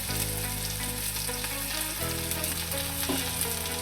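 Onion, garlic and green chilli frying in oil after mustard seeds pop, for a prawn curry: a loud, dense, continuous sizzle up close, with a faint tonal hum underneath and no speech.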